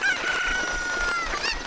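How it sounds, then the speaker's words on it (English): A cucco chicken in a Legend of Zelda game at Zora's River gives a loud, close crowing cluck, a single drawn-out call with a brief squawk at the end. "I'm gonna grab that chicken"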